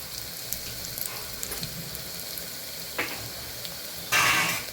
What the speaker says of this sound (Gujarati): તો આપણે કારેલા સરસ ડુંગળી સાથે સાતળી લીધા છે.